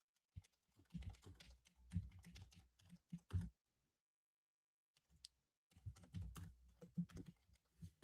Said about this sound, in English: just typing something here